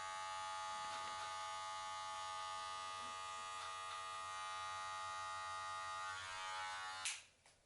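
An electric beard trimmer buzzes steadily and closely as it trims a beard, a bright, constant hum with faint contact scratches, ending in a brief rustle as it is switched off.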